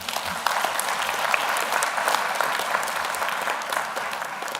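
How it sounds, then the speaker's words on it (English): A graduation crowd at Strathmore University applauds the graduating class, a dense, even roar of clapping that holds steady throughout. "May we clap for them."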